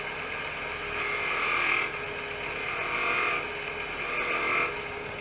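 Abrasive paper rubbing an end-grain wooden bowl spinning on a lathe, a steady broadband hiss that swells in three passes as the paper presses in, with the lathe's low hum underneath; no talking.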